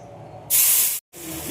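Water is poured into a hot pan of halwa fried in ghee, erupting in a loud, sharp hiss that lasts about half a second before cutting off, followed by a lower, quieter sizzle.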